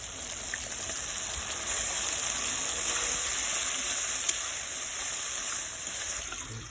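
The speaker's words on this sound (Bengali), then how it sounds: "এবার দিয়ে দেবো নারকেলের দুধ।" Coconut milk pours into a pan of spiced, cooked-down tomato masala, a continuous soft gushing and splashing that swells slightly and runs steadily at close range.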